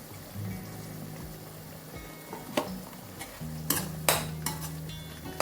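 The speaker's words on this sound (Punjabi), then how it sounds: "ਇਹਨੂੰ ਵੀ ਆਪਾਂ ਚੰਗੀ ਤਰ੍ਹਾਂ ਭੁੰਨ ਲੈਣੇ ਆ ਮਸਾਲੇ ਨੂੰ" Spice masala for bhindi do pyaza roasting in a pan, a low sizzle broken by sharp scrapes and clinks of a spoon stirring against the metal, close and fairly quiet.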